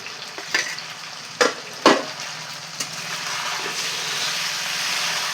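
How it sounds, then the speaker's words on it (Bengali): Garlic, ginger and green chili pastes dropped into a pan for a village-style chicken curry, with a few sharp splattering bursts at first that settle into a continuous loud hissing sizzle. "এবার আমি দিয়ে দেব রসুন বাটা এবার দিয়ে দেবো আদা বাটা দিয়ে কাঁচা লঙ্কা বাটা"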